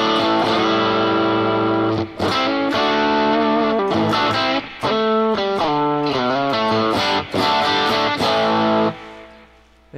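A 2020 Gibson Les Paul Standard on its bridge pickup runs through a Fractal amp with gain slightly rolled back, plus delay and reverb; loud, distorted riffing with sustained chords and short breaks, ending in a fading ring.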